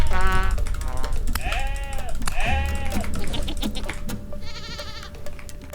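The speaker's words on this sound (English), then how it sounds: "I got brutally attacked by the local wild goats" Wild goats in the Vintage Story survival game bleat repeatedly and loudly during an attack, several harmonic cries in quick succession over a dense backdrop of game sound and scuffling, with a steady tone running underneath.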